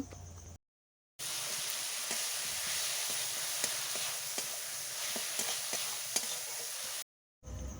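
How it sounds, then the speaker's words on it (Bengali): A masala of ground white mustard and cumin paste is stir-fried in a pan, giving a loud, dense, continuous sizzle with scattered crackles. Short bursts of dead silence come before and after the frying. "সাদা সরষে আর জিরে বেটে রেখেছিলাম দিয়ে আরও ভালোভাবে একটু আমি কষে নেব"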